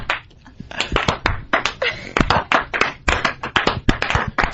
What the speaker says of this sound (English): That slow clap.